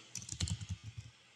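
Quick typing on a computer keyboard while writing a code comment in a Unity script, a short burst of soft close key clicks in an uneven rhythm, with no talking.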